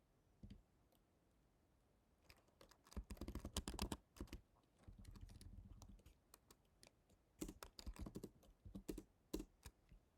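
Quiet keystrokes on a computer keyboard, coming in irregular bursts of rapid clicks with short gaps between them, close and soft with no one speaking.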